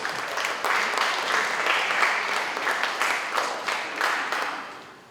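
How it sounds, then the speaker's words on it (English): An audience of high school students applauds at a youth entrepreneurship pitch event in Palau, steady clapping with a few louder swells that gradually tapers off, no talking over it. "So please give yourself a round of applause"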